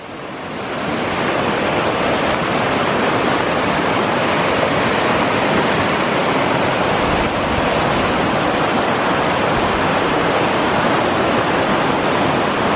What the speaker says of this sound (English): the water is coming through at such a pace.